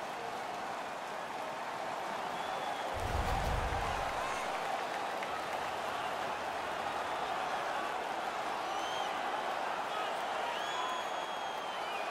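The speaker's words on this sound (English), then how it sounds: "The crowd is all over them right now." Crowd cheering and applauding at a Detroit vs Washington Stanley Cup playoff game in the NHL 17 hockey video game: a steady, dense roar throughout, swelling briefly with a low thumping burst early on.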